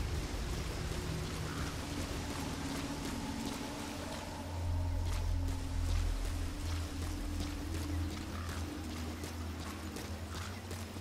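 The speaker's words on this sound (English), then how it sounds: "Caution, rain approaching." Steady rain patters and hisses in the video game Metal Gear Solid V: The Phantom Pain, with a low rumble swelling midway and faint knocks in the background.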